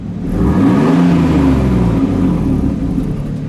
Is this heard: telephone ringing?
no